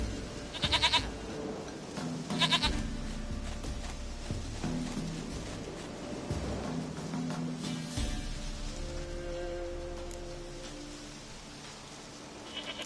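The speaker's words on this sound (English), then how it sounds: "Goat of mine, dearest," A goat in a PS4 game gives short bleating calls in bursts over a low rumbling ambient bed, fairly quiet and spaced apart with gaps between.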